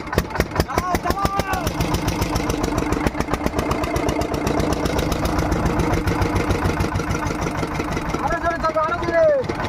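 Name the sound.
motorboat engine on a Sundarbans river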